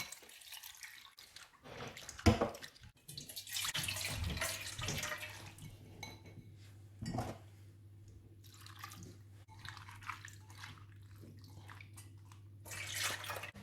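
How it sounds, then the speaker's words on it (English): Water runs from a tap as salted sliced vegetables are rinsed for a sweet and sour pickle, giving a steady close splashing and trickling with some drips and clatter. "So what I'm going to do is we're going to rinse the salt off."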